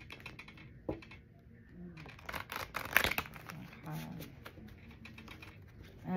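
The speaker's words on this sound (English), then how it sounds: "I am shuffling them." Oracle cards are shuffled close up in a series of soft, irregular riffling and flicking bursts, with faint rustling between them and no talking.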